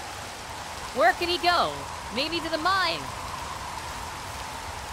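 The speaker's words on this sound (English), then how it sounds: "Damn, it started to rain." Steady hiss of falling rain in a Minecraft world runs through the whole stretch, an even wash of noise under two brief bursts of talking.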